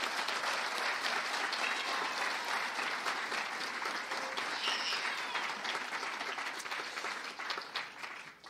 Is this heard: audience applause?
yes